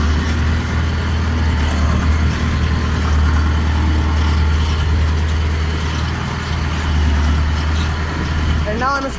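An Escorts Hydra 14 crane's engine idles steadily with a deep, constant low rumble under a man's speech, with occasional faint mechanical clanks.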